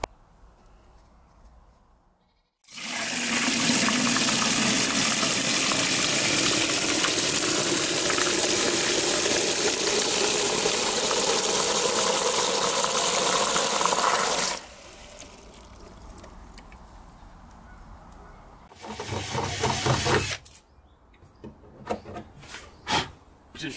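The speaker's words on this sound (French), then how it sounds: "J'ai fini de percer le trou, donc c'est parfait." A drill bores a hole into the plastic wall of a 310-litre EDA rainwater collection tank, a loud sustained grinding whir lasting about twelve seconds, then quieter scraping and handling noises as the bit is withdrawn.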